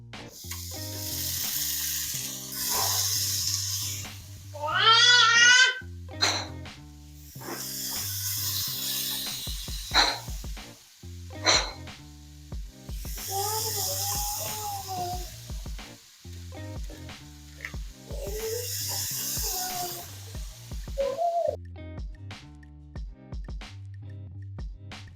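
Meat hits a frying pan heated almost to smoking and keeps up a bright, hissing sizzle in recurring waves, heard alongside other tonal sounds and no speech.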